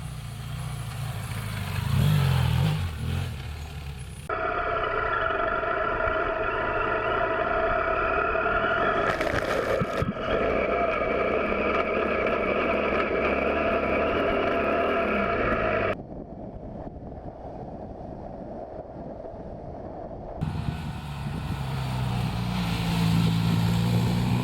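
A BMW F800 GS Adventure motorcycle ridden on the road, its engine droning steadily and loud throughout, with a brief louder burst midway and a drop in intensity near the end as the ride continues.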